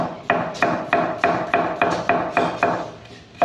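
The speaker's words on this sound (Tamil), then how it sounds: "இப்போ சின்ன வெங்காயத்தை ஃபைனாக கட் பண்ணிக்கணும்." A knife finely chops small shallots on a cutting board for a mutton liver fry, landing about ten steady, evenly spaced chops up close with no talking.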